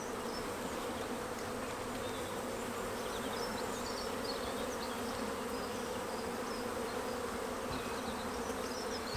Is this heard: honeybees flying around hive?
yes